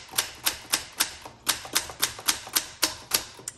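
A 1966 Olympia SF portable travel typewriter typing, a steady run of about a dozen crisp, loud, evenly spaced key strikes close up, with no talking.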